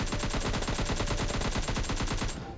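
Automatic gunfire in PUBG Lite, a battle royale shooter, fired in a fast, steady burst of rapid shots that stays loud and unbroken for over two seconds before cutting off.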